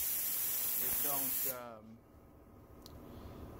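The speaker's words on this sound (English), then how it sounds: "we got the gun and everything ready to spray here" Paint spray gun coating rusty car fenders, a loud steady hiss of atomised paint that cuts off abruptly partway, leaving a quiet room tone; someone talks over the spraying.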